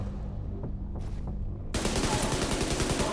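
Sudden burst of rapid gunfire in The Division 2, a dense volley of close, loud automatic shots that erupts after a quieter stretch of scattered sounds and continues to the end.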